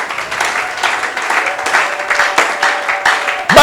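A church congregation breaks into applause, a dense, loud, continuous clapping that swells and dips slightly in waves and fills the whole stretch without pause.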